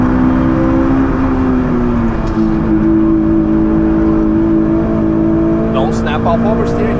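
A Honda S2000 engine pulls hard at full throttle on the Nürburgring, a loud steady in-car drone that climbs in pitch without a break, with a driver talking over it.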